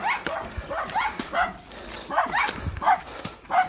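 Out on a hillside coconut-gathering trek in the Philippines, a dog barks in a quick run of sharp, mid-pitched yaps, about six or seven in under four seconds, fairly close and loud.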